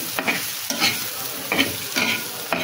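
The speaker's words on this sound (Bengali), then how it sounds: "এই যে করলাটা এখানে ভাজি হচ্ছে" Lightly boiled bitter gourd frying in a pan with salt, turmeric and chilli powder: a continuous sizzle broken by four or five distinct scraping stir strokes at an even pace, close up and without talk.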